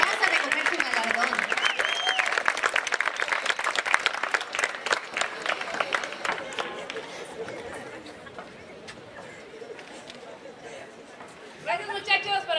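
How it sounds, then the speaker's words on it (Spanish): Audience applause and cheering at a gala awards night as a teacher is called up for her award, loud clapping with crowd chatter that fades out over several seconds before a voice speaks. "¡Un aplauso para la maestra!"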